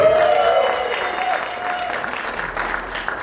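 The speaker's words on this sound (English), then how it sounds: "Give him a round of applause." Audience applause at a Las Vegas stand-up comedy special, a loud burst of clapping that tapers gradually, with some crowd noise mixed in.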